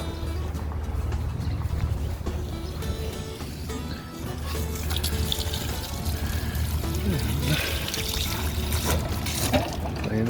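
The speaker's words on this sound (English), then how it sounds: "turn on the water" Tap water pours steadily for a clean-out at a rainwater catchment setup, a continuous close rush under a person talking.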